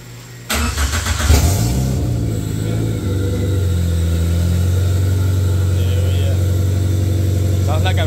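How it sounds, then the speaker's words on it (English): A Toyota Matrix's 2ZZ engine with open headers, in a garage, cold-starts with a sudden loud bark, revs hard for a couple of seconds, then settles into a loud, raspy, steady idle. "it's going to be loud because this isn't the first time we have an open header 2ZZ in the garage"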